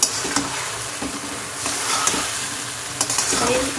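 Food frying and sizzling in a pan while being stirred, for a steady loud sizzle broken by scraping stirs and light clinks, close up, no talk.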